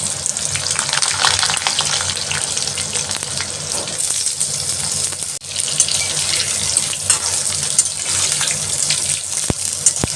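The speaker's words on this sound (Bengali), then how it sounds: "এবার আলুগুলো আমি হালকা করে ভেজে নেব।" Potatoes fry lightly in oil in a pan for a Bengali vegetarian aloo dum, a steady loud sizzle with faint stirring scrapes and a short dip midway.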